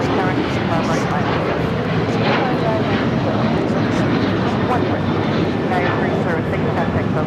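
An airliner powers down runway 25 right at LAX for takeoff, a steady, fairly loud jet roar that continues evenly throughout.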